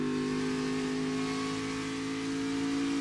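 A NASCAR Xfinity race car at Nashville Superspeedway, a rough mile-and-a-half track, drones with a steady engine tone, heard from a distance and fairly level, with no speech.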